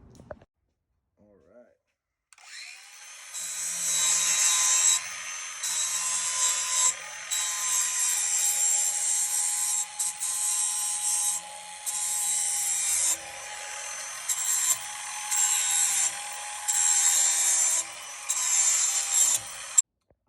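A grinder works down the threads on an RC trailer part before welding, a steady high-pitched abrasive whine broken by short pauses, close and loud, running for most of the stretch after a brief quiet start.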